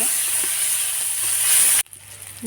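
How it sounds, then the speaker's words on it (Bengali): Onion and green chili frying in leftover fish-frying oil, a loud continuous hiss of sizzling close by that cuts off abruptly near the end, leaving quieter background noise. "পেঁয়াজ আর মরিচটা অল্প অল্প ভাজা ভাজা হচ্ছে"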